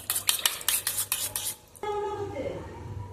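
A spoon stirs milk, biryani masala and ghee together in a bowl, a string of rapid, rhythmic scraping clinks followed by a single brighter ringing knock against the rim, close and clear.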